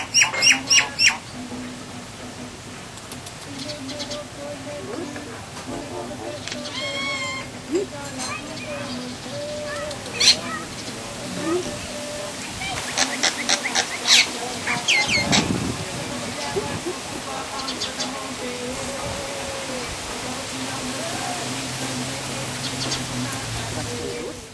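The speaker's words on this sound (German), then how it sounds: "Auch hier werden wir von einem der Beo-ähnlichen Vögel begrüßt, der sehr nachhaltig seinen Anteil am Keks zum Espresso fordert." A myna-like bird squawking insistently at an outdoor hotel café in Mauritius, begging for a share of a cookie served with espresso: repeated harsh, close calls over steady background noise and a constant hiss.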